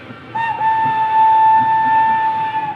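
A Shriners parade train passes during the 2024 Dallas Christmas Parade, sounding a steady, loud whistle tone that holds for a couple of seconds over a low rumble of crowd noise.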